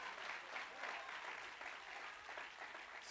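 A church congregation applauds during a Spanish-language sermon, a soft, distant, even wash of many hands clapping that continues steadily and alone without voices.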